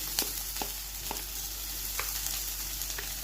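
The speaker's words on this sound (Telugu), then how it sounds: "ఆనియన్ పచ్చిమిర్చి వేగిన తర్వాత అల్లం వెల్లుల్లి ముక్కలు" Chopped onion, green chili, ginger and garlic fry in a pan for a sorghum-flour soup, a steady close sizzle broken by a few soft scraping stirs.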